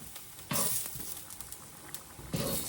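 Vegetarian meatballs frying in a pan, a low sizzle with soft stirring and a couple of louder bursts of spattering, close and fairly quiet.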